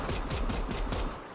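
Rapid bursts of automatic gunfire in the zombie game Dead Island 2, loud and close, repeating in a steady rhythm of about five bursts over a moment with no talking.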